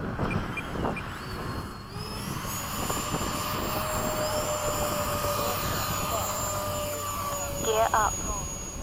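Jet engines of A-10 aircraft flying in formation at sunset, a steady sustained roar with a rising whine, heard from close by inside the cockpit, with short bursts of radio chatter near the end.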